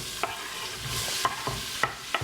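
Garlic and olive oil frying in a pan beside a pressure cooker, making a soft steady sizzle with several sharp stirring clicks of a utensil scattered throughout.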